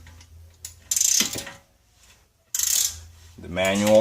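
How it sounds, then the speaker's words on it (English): A wrench loosening the rear lower control arm bolt on a Jaguar XJ8 gives short bursts of ratcheting, grinding metal, with a brief squeak or voice-like tone at the end. "So after tightening it, I'm going to loosen it just a little more."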